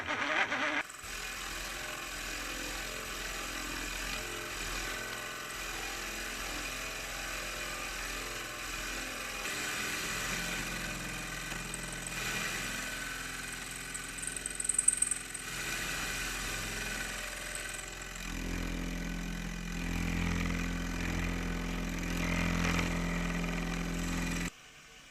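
A milling machine spindle cutting 1/4-inch 6061 aluminum flat bar gives a steady mechanical drone with a faint rattle. The tone shifts to a deeper, stronger hum near the end.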